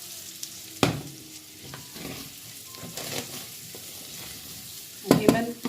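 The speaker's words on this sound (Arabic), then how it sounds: "ديما نحركو بشي ملعقه خشبيه مش الحديد." A wooden spoon stirs rice in a pot, giving a few scraping, clattering strokes against a soft background sizzle, with sharper knocks near the start and end.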